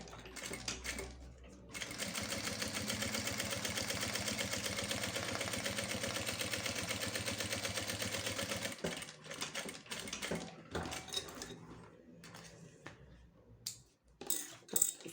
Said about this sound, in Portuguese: Agora eu vou fazer uma costura bem na pontinha aqui com meio pezinho de máquina.